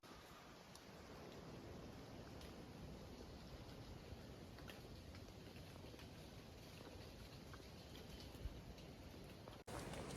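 Light drizzle falls steadily in the Monteverde cloud forest in Costa Rica, a soft, even patter of rain that continues without pause, with faint scattered drops.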